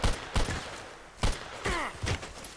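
Enemy gunfire in the shooter game Contract Wars, with a few sharp shots spaced out over a couple of seconds, fairly close and loud, and no talking.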